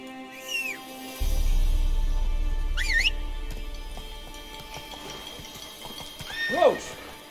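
Roach, Geralt's horse in a video game, trots with a steady low hoofbeat rumble and gives several high, wavering neighs, one early, one in the middle and a loud close whinny near the end.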